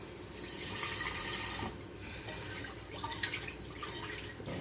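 Water runs from a kitchen tap, rinsing and filling a cooking pot before rice is boiled, a steady faint splashing stream with small changes in tone as the pot fills.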